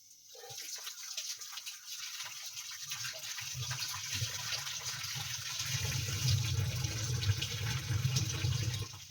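Tap water running steadily over potatoes being rinsed in a home kitchen sink, a continuous broadband splash that grows slightly louder and fuller toward the end, with no talking.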